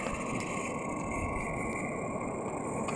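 Motor-driven blower on a manual blacksmith forge used for making bolos, a steady droning hum running continuously throughout with no pauses and no talk.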